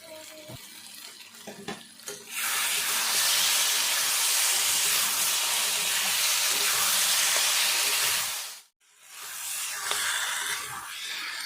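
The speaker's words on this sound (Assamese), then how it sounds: "আলুখিনিও ভালকৈ একদম পূৰা ভাজি ল'ম।" Potatoes sizzle loudly in hot oil in a pan while a rohu fish curry is cooked, a steady broadband hiss that starts abruptly, briefly drops out near the end, then resumes.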